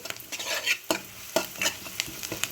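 Spices frying in a pan over high heat, with a steady sizzle and repeated stirring scrapes through the clip, close and fairly loud, no voices.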